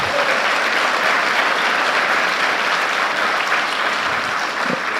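A church congregation claps steadily and loudly for about five seconds, a dense, even wash of applause without pauses.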